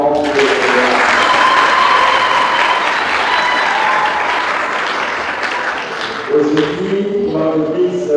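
A church congregation applauds in a dense, sustained burst of clapping that fills the room, fading slightly before a voice starts speaking near the end.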